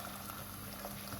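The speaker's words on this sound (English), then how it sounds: "Make sure that's boiling." A pot of water for cooking poussins at a rolling boil gives a steady, faint bubbling and hissing that lasts briefly with no voices.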